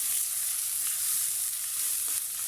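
Onions browning in a pan with green cardamom, cinnamon, black pepper and cloves give off a loud, continuous bright sizzle, close up and unbroken, with no voices.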